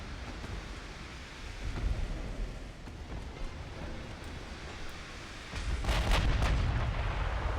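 Battleship secondary guns firing at enemy destroyers during a naval battle in Ultimate Admiral: Dreadnoughts, heard as a steady rumble of distant booming shots that swells into a louder, denser barrage near the end.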